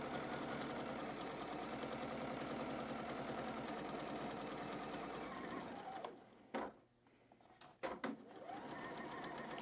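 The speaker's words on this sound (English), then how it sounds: "keep on sewing" A sewing machine stitches through quilting fabric at a corner, running a fast, steady mechanical whir that stops around the two-thirds mark, followed by a couple of short stitching bursts and quiet gaps.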